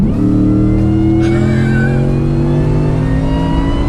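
A loud pickup truck engine, a tuned 725 wheel-horsepower Ford F-150, roars steadily under hard launch acceleration, its deep tone holding strong and rising slightly, with no voices.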